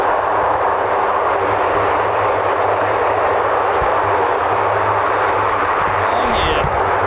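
Rolls-Royce AE2100D3 turboprop engines with six-bladed Dowty R391 composite propellers on a military aircraft make a loud, steady, continuous roar that holds level throughout, with no talk over it.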